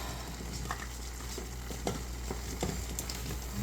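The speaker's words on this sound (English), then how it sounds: "I have them on a hot burner from when I made the buttered noodles so that I can cook off some of the liquid" Vegetables sizzle on a hot stovetop burner as liquid cooks off in the pan, a steady close frying hiss with scattered soft pops and clicks throughout, no voices.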